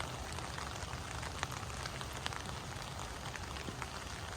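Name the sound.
rain falling in a garden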